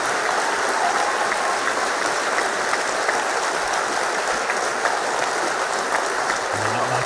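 Conference hall audience clapping at the Labour Party conference, a loud, dense and steady burst of applause running continuously throughout, with no voice clearly standing out over it.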